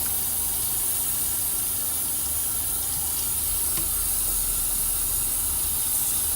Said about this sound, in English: I'm putting my hair back under the sink so we can just rinse that out